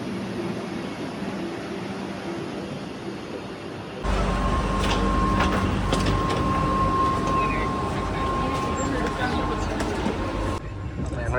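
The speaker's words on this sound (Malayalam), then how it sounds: "ഇത് മംഗലാപുരത്ത് നിന്ന് തിരുവനന്തപുരം വരെ പോകുന്ന ട്രെയിനാണ്." Mangalore to Thiruvananthapuram passenger train, heard as a faint platform hum that swells at the four-second mark into a loud, steady rumble with a sustained tonal whine, and then fades a little near the end.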